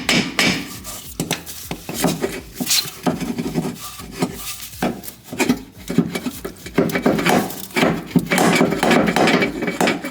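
Small mallet hammering on a 2022 Honda Civic Si control arm to knock a bushing part out, giving repeated irregular metallic knocks and scraping clatter, loud and close, with no talking.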